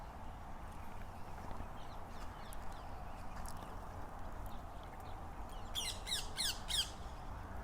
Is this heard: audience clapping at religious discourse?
no